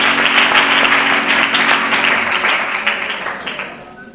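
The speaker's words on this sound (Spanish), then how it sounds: "aplauso al Señor Jesús." A church congregation applauds loudly and steadily in praise of Jesus, a dense wash of many hands clapping that slowly fades toward the end.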